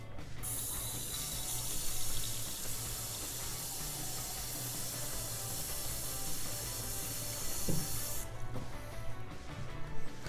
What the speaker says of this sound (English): now we're going to put in the final 2 cups of water